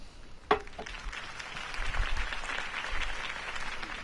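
Steady crowd applause from a Batman video game fills the clip, with a sharp clap or knock near the start.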